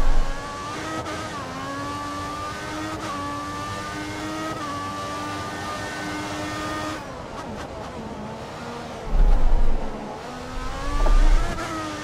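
A Ferrari Formula 1 car's engine in the racing game F1 2014, on a qualifying lap in Canada, screams at high revs with rising and falling pitch as it shifts, while the car slides and pushes, with brief low thumps near the end.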